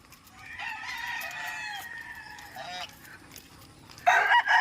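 Several roosters crow from a gamecock farm in Rodriguez, Rizal, their long calls overlapping near and far over steady outdoor background, with a louder raucous burst near the end.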